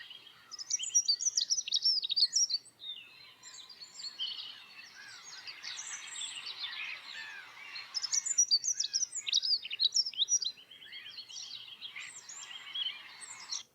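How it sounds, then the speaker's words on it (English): Several birds sing and chirp in bright, busy bursts, trilling and tweeting in overlapping phrases with short pauses, clear and fairly close against otherwise quiet surroundings. "I'm going to play a few seconds of the pleasant bird sounds again"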